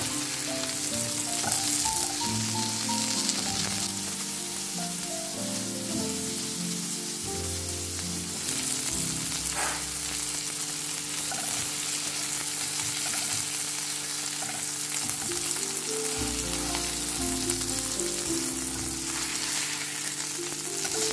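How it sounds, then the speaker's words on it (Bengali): Marinated beef picado fries in a pan with a loud, continuous, crackling sizzle that holds steady throughout, punctuated now and then by stirring and shifting pieces, with no talking. "আস্তে আস্তে এটা ভেজে তুলবো।"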